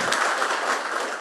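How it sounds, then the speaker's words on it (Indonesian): An audience at a political event in Indonesia breaks into a short burst of dense, steady applause, moderately loud and close. "Ayo tepuk tangan yang hebat ngono lho."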